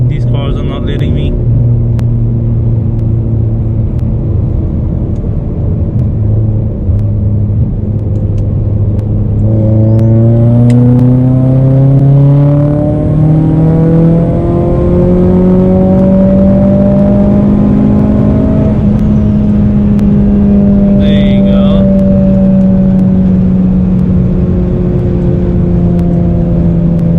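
Car engine held around 3,000 RPM, a loud close drone whose pitch drops, then climbs steadily and levels off, continuous through the whole stretch with brief faint squeaks.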